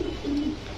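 Pigeons, including imported fancy breeds such as Pakistani Teddy, Kamargar, Shaharanpuri, Laldam and Chila, coo in a low, steady murmur through the short moment, fairly close, with a soft background hum and no talking.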